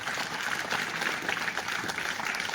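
Steady applause fills the room as a guest is welcomed at a village school principal's retirement ceremony, a dense, even patter of many hands, moderately distant and continuous, with no speech over it.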